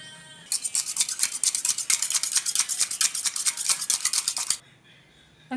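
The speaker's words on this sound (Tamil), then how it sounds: "முட்டை வந்து ஒரு பவுலுக்கு ஊற்றிட்டு நல்லா அடிச்சுக்கோங்க" Eggs being beaten briskly in a bowl for appam batter, a fast regular whisking clatter of rapid strokes close up for about four seconds, then stopping.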